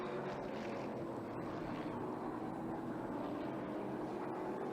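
Hot rod race cars circling Jukasa Motor Speedway in an OSCAAR Hot Rod Series race, a faint, distant and continuous engine roar blended with crowd ambience.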